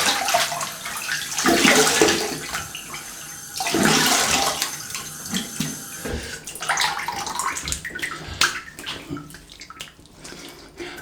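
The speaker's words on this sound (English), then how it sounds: "let me have a little cold water rinse" Tap running for a cold water rinse during a wet shave, a loud rushing gush that swells and fades in bursts, with splashing and hand noises as the water is used.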